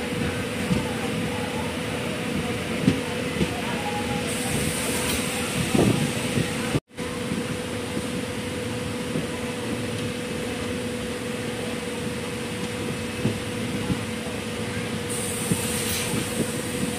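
The Coimbatore-Madurai Intercity Express, a fully unreserved passenger train, rumbles steadily throughout as heard from inside, with a continuous loud drone, occasional clanks and one brief dropout midway.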